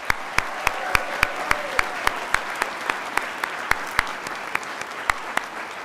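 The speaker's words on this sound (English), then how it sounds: "I would like everyone to one more time give the students, the faculty, and the dean a hand of applause" A law school commencement crowd applauds graduating students, faculty and the dean, a steady wash of clapping with sharp individual claps standing out near the microphone.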